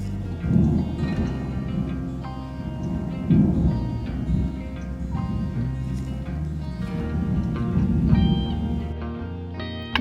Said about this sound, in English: We've got a storm coming in